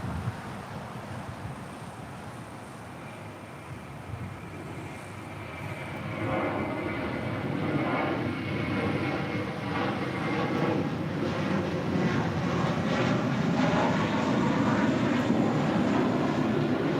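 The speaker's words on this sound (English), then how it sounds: "This is American Airlines Flight 274 departing to JFK on an A321." An American Airlines Airbus A321 jet departs LAX bound for JFK, its engine roar building steadily from a quieter rumble into a loud, sustained broadband thrust that holds strong to the end, with wind buffeting the microphone.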